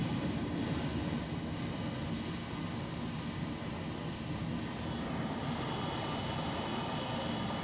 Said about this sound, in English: I see two planes in the air right now that are going.